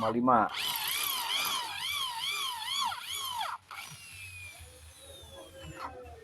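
An electric drill with a 6.5 mm bit whines with rising and falling pitch as it bites into a metal brake caliper, steady for a few seconds before cutting off.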